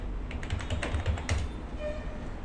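Rapid typing on a computer keyboard while entering a web address into DNS client tools, with close, crisp keystrokes in an uneven run that thins out toward the end.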